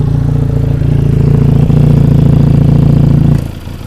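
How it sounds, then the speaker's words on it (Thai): A 2018 Benelli TRK 502 motorcycle engine idles loudly up close with a steady, throbbing putter, then drops abruptly quieter near the end as the exhaust outlet is blocked. "ท่อมันลั่นหน่อย เดี๋ยวผมอุดท่อให้ฟังเจียงเครื่อง"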